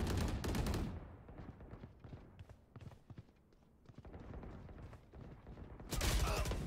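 Gunfire in Valorant: loud broadband bursts open the clip, followed by a stretch of scattered, quieter clicks and impacts, and then a heavy burst of shots returns at the end. No one speaks.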